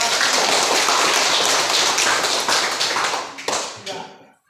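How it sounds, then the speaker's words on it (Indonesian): Students in a classroom applaud a classmate with a burst of loud, close clapping that gradually thins and fades, a few last claps trailing off before silence. "Silakan berikan aplaus untuk Arisnya."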